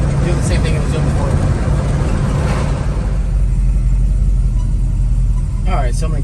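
Car engine with noisy lifters and backfires, idling steadily with a low, constant rumble and a faint tick, loud and close throughout, without a clear rise into a throttle rev.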